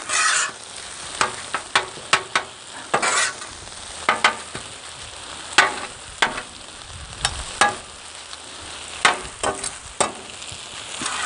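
Shrimp sizzle on a Blackstone flat-top griddle during a hibachi cook, a steady close frying hiss broken by frequent sharp clacks and scrapes of a metal spatula stirring and tossing.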